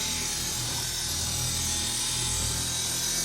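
BATOCA S5 cordless car buffer polishing a car at speed setting 4 with light pressure, a steady loud whirring hum that runs unbroken throughout.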